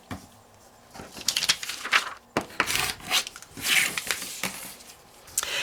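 Scissors or a rotary cutter working through quilt fabric along a marked pattern line, giving repeated close rasping, rubbing cuts and shuffles of cloth in irregular bursts, with no talking.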